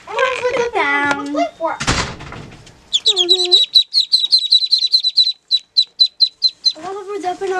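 Birds chirp in quick repeated bursts around a backyard play fort in rural Maine, fairly close and clear, with a voice and other talk heard at the start and end.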